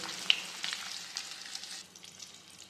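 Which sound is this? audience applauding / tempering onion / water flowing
tempering onion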